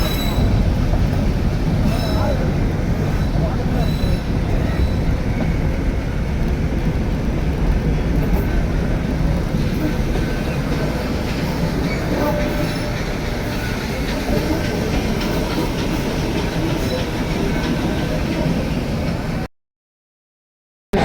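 The Ooty toy train runs downhill from Udagamandalam to Mettupalayam, a constant close rumble of wheels and carriages with light rhythmic clatter and occasional squeal, continuing steadily for about twenty seconds before cutting to silence.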